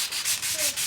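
Sandpaper rubs against wood during whittling, a close, dry scratching in about three short back-and-forth strokes with no talk.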